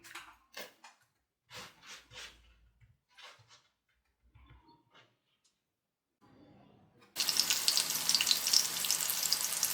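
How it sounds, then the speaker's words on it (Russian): Soft talking and small kitchen noises give way to a loud, continuous sizzle as breaded pork cutlets hit a hot pan and keep frying. "Обжарим сформированные котлеты на сковороде по 2-3 минуты с каждой стороны"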